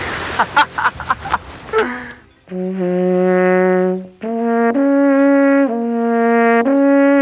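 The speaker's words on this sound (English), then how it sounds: "That is the sound of the Alp horn" Brief chatter at the start, then long, deep, resonant alphorn notes are held one after another, rich and mellow, in a slow melodic phrase.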